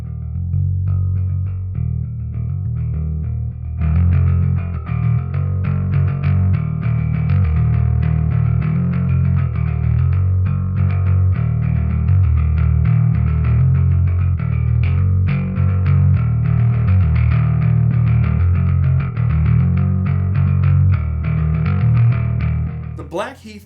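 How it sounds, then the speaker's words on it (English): Bass guitar played through a Laney Blackheath triple-mode distortion pedal, from Laney's Black Country Customs bass gear, giving a loud, continuous, thick overdriven low-end riff that runs steadily for the whole stretch with no talking. "Blackheath is a triple mode distortion pedal"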